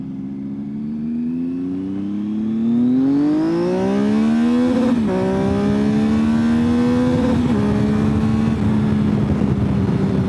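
A three-cylinder motorcycle engine winds up through the revs at speed on the road, rising in pitch and briefly dipping at each gear shift, loud and close, with wind rushing around it.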